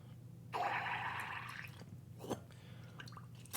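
Water is squeezed through a fountain pen with a trimmed aspirator, giving a hissing, gurgling squirt of about a second, then smaller wet squishes and drips, quiet and close.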